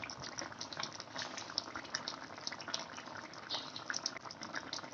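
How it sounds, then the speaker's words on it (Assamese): A pot of fish curry with potatoes bubbles at a steady boil, soft close-up gurgling and popping going on without pause and with no talk. "এয়া উতলি আছে।"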